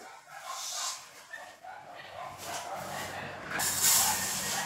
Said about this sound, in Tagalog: Pasensya na kayo sa aking aso, ha? Maingay.